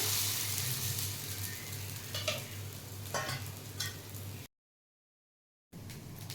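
Adai dosa batter sizzling on a hot pan, a steady close frying hiss with a few brief stirring or scraping sounds, then a short silence before the sizzle continues.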